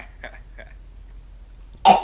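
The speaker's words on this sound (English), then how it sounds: "Sorry, I had to cough." A single sharp, close cough bursts out at the end, after a couple of faint murmurs in an otherwise quiet room.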